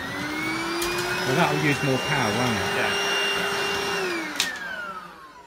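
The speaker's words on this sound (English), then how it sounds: "obviously that's like a stick vacuum, isn't it?" VAX cordless stick vacuum cleaner with a turbo brush fitted, whirring steadily on carpet with a high motor whine that shifts pitch as it works, while two people talk briefly over it.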